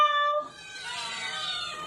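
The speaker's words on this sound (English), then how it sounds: "Can all the kitties in the club say meow?" A cat gives a drawn-out, wavering meow, loud and close, which shifts into a hoarser, strained cry toward the end.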